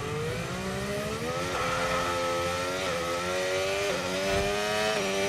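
A Formula 1 racing car engine in F1 25 revs high and shrill, climbing through the gears with a short dip at each upshift, loud and continuous throughout.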